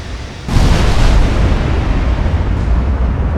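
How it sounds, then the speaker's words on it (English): A torpedo strikes a warship in the naval game Ultimate Admiral Dreadnoughts: a sudden loud explosive burst, then a sustained roaring rumble that carries on to the end, with no talking. "they just fired a torpedo at me"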